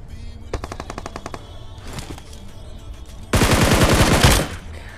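Bursts of automatic gunfire in a mobile battle royale game: a rapid string of shots, a short pause, another brief burst, then a loud sustained volley of about a second.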